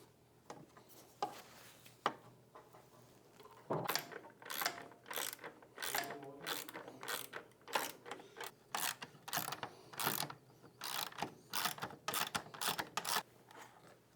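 A ratchet with an extension works on the bolts of a carbon fiber tail light housing on a 2024-or-later Harley touring motorcycle, a rapid series of sharp close clicks in steady bursts after a few scattered handling taps.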